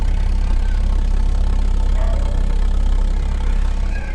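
A 1.0-litre car engine held at a loud, steady, throbbing run close by, with no distinct rise and fall of revs and faint voices in the background.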